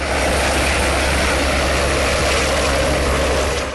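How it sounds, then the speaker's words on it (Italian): A firefighting helicopter working a wildfire in the Veneto countryside flies overhead, its steady rotor and engine roar holding loud and continuous for the whole stretch with no voices. "Poco dopo le 15 l'arrivo dell'elicottero che per circa 3 ore e mezza ha continuato i suoi viaggi."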